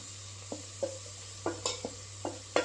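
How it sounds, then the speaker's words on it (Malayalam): Spice powders, coriander, chilli, pepper, turmeric and garam masala, stirred in a pan for a chickpea curry, giving a string of short scraping stirs with a soft sizzle behind them, close and moderately loud with no talk. "ഇനി ഇതൊന്ന് വഴറ്റിയെടുക്കാം"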